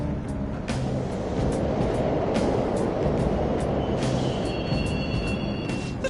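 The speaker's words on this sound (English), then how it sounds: "The trains are totally running!" Subway trains running in the Persona 5 Royal video game, a continuous low rumble of rolling carriages with repeated clicking rail knocks and a thin high squeal toward the end, no voices.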